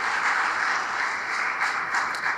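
Students at a college induction programme applaud their teachers and professors, a short burst of dense and steady clapping from a crowd.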